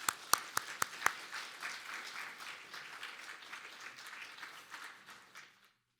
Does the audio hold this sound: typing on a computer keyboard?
no